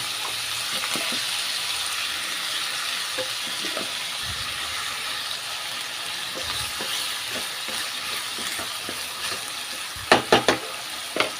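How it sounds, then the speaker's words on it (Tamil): Chopped ivy gourd (kovakkai) sautéing in oil in a kadai, a steady soft sizzle and hiss with a few louder clinks of stirring near the end. "அந்த எண்ணெயில் இந்த கோவக்காய் வந்து நல்லா வதங்கி வரட்டும்"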